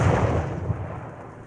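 A single grenade blast in the VR shooter Onward, a loud, deep thud that rolls off quickly into a fading rumble.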